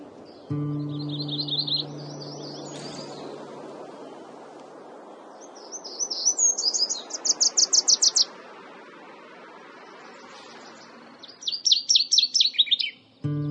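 Bright, high-pitched warbler songs repeat in three trilled phrases, each a quick series of buzzy notes, over a faint ambient hush.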